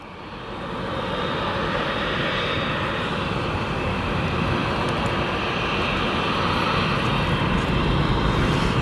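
A Boeing 787 Dreamliner in from Tokyo Haneda taxiing at O'Hare International Airport, its engines building to a loud, close, continuous roar and whine that holds steady for several seconds.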